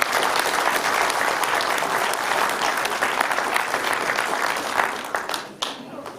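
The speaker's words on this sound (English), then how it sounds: "So let's give them a round of applause." Sustained applause from a crowd at a village board candidate meet-and-greet fills the room, steady for several seconds before tapering off near the end.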